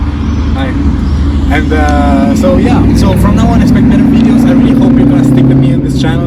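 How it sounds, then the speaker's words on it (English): Steady traffic noise from cars coming and going on a Monaco street runs as a continuous low rumble beneath someone talking throughout. "That's the noise of Monaco, cars coming in and out."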